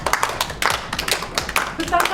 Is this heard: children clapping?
yes